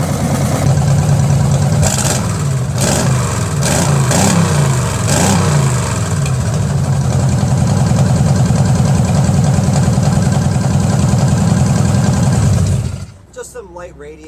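A Jeep engine idles steadily on its own, a loud, continuous low rumble with a few brief revs early on, then it cuts off abruptly near the end.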